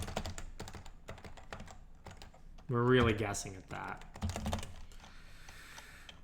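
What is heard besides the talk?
typing on a computer keyboard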